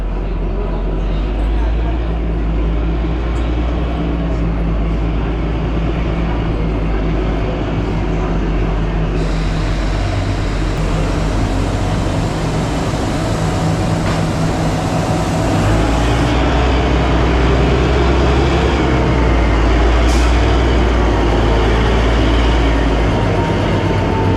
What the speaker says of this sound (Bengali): আমাদের এখানে ট্রেন এখন ঢুকছে স্টেশনে